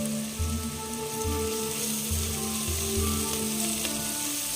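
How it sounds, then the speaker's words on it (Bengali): Onions sizzle steadily in hot oil with a pinch of turmeric as they are stirred, a loud, close, continuous crackle under a low rhythmic thumping. "এবার একটু নাড়িয়ে দিচ্ছি। পেঁয়াজটা এবার একটু ভাজা ভাজা হবে,"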